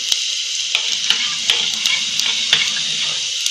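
Curry leaves dropped into hot tempering oil with garlic, a bright crackling sizzle with sharp pops and a few stirring clicks, close and steady.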